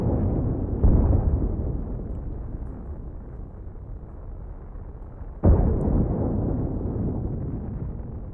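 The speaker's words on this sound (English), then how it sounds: "robotic arms to load, and they are loading and firing" Weapons fire and explosions in The Last Starship space combat, two heavy booming blasts a few seconds apart, each followed by a long rumbling roar that fades slowly.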